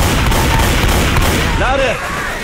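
Shotgun blasts in the zombie shooter Left 4 Dead 2, loud and close, dense gunfire filling the scene with a voice speaking partway through.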